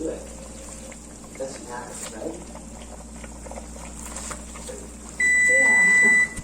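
A loud, steady smoke alarm tone sounds near the end, following the noises of cooking nilagang baka with Napa cabbage and bubbling under background chatter.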